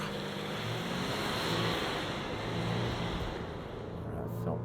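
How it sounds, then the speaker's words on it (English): A Ford Ranger V6 pickup accelerates hard from 0 to 100, its engine a smooth, steady roar with road and wind noise heard from inside the cab, loud and continuous without speech. "We'll load it up and see if we can improve our 0 to 100 time"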